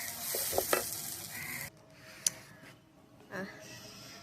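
Onions frying in a pan in a home kitchen, a soft sizzle with occasional stirring scrapes, fairly faint and uneven.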